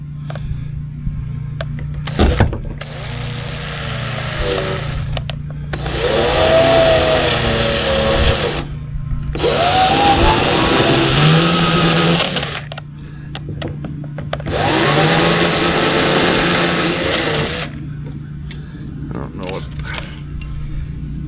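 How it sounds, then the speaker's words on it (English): A power drill drives a screw into the base of a throttle lever for a boat motor, in several whirring bursts of a few seconds each, close and loud, with someone talking between them. "I think I'll drive this one right through the base just to hold it in place."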